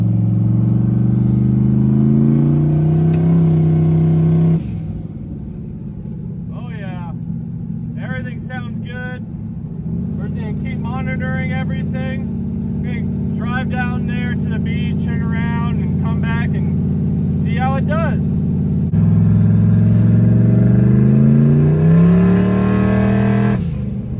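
A no prep drag race car engine running while being driven, a loud deep rumbling drone that swells with revs at the start and end and settles lower in between, with a voice talking over it.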